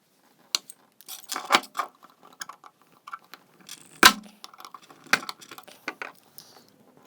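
A hand clamp scrapes, clicks and knocks in short irregular metallic bursts as it grips the filter cap of an Artema A45228 washing machine and dishwasher faucet and tries to twist it off, with one sharp clank partway through.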